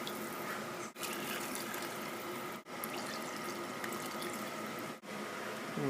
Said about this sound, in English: what we're going to do is add some water